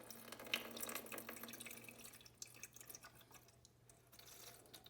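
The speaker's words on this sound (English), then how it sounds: "It says to fill the reservoir with water. I'm gonna try not to spill this all over the place." Water poured from a large gallon jug into the reservoir of a ChiliPad Ooler bed-cooling unit, a faint indoor trickle and splash that runs steadily with small drips and gurgles.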